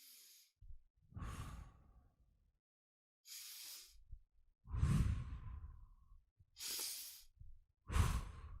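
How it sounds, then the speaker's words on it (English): An audience takes three deep breaths together, each slow inhale and long sighing exhale sweeping through the room in turn, with short quiet gaps between them. "So I'd like everyone just to take 3 deep breaths."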